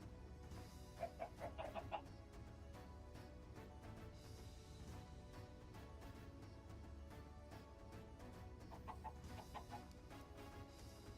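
Chickens in the Minecraft video game cluck softly in two short bursts, faint and close, over a low steady background with no talking.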